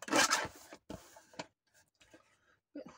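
Paper being cut down by hand for a junk journal page, short crisp snipping and rustling bursts, close and fairly faint, separated by quiet gaps.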